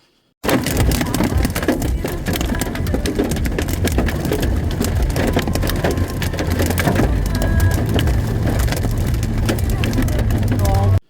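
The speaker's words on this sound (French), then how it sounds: "tellement le bruit des grêlons sur la voiture" Dense, continuous drumming of hailstones pelting a car body, loud and close, a steady clattering roar with a low rumble underneath, no pauses.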